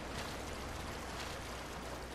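A waterfall in a sewer area in the video game Resident Evil 3 Remake gives off a steady, dense rushing roar, faint and unbroken throughout.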